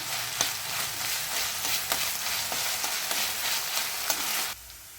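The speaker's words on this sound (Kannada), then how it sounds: "ಇದೆಲ್ಲ ಚೆನ್ನಾಗಿ ಬ್ರೌನ್ ಕಲರ್ ಬರೋ ಥರ ಫ್ರೈ ಮಾಡ್ಕೊಳ್ಳೋಣ" Onions fry to brown in oil in a pan with steady loud sizzling and repeated scrapes of a stirring spoon, then the sizzle drops off sharply near the end.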